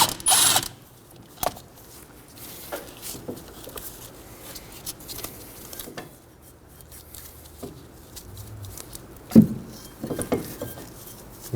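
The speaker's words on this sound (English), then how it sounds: "Using a 14mm, I'm going to remove one of our slide pin bolts." A 14mm wrench works a caliper slide pin bolt loose on the rear brake of a 2003-2006 Subaru Baja, giving sparse clicks, metallic ratcheting and clanks at close range with quiet gaps between them and no talking.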